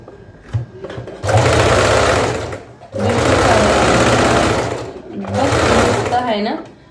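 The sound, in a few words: sewing machine stitching a lining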